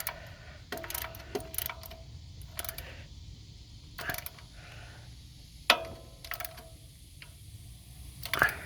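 A wrench tightens a 14mm bolt on the alternator of a 1999 Toyota Camry, giving scattered sharp metallic clicks and ratchet-like ticks close by, with quiet pauses between them and no talking.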